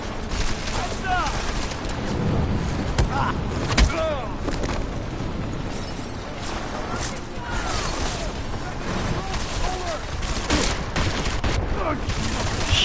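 Sustained rapid gunfire and explosive bursts in a Square Enix shooter video game, continuous and dense throughout with shouting voices mixed in over the din.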